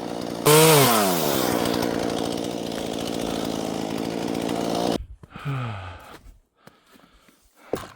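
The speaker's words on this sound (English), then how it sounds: "Give the chainsaw a little rest." A chainsaw roars loudly up close, revving up and holding a steady buzzing whine, then cuts off before briefly restarting and sputtering out.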